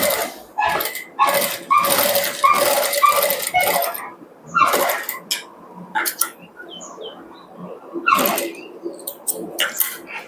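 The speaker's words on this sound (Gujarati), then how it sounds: "તો એ રીતે આપણે સિલાઈ લગાવી દેવાની" Sewing machine stitching tucks on a blouse, close rapid bursts of mechanical rattling stitches separated by short pauses, repeated several times.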